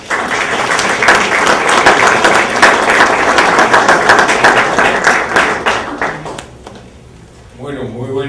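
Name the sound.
audience applause at a conference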